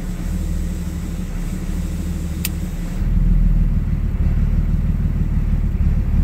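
A 2004.5 Ram 3500 diesel engine idling roughly with the exhaust brake on, a continuous heavy low rumble that gets louder and deeper partway through, close and alone with no voices.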